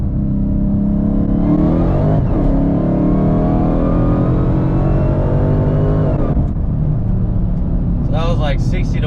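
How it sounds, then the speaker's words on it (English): A Dodge Hellcat Charger with 860 wheel horsepower pulls hard in third gear from 60 mph, its loud engine roar rising steadily in pitch. It is heard up close from inside the car, with a brief lift near the end. "Let's do a 60 roll,"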